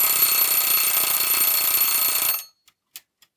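Wind-up timer bell on a vintage 1972 East German UV arc tanning lamp ringing loudly and continuously for over two seconds, then stopping abruptly, followed by a few faint clicks.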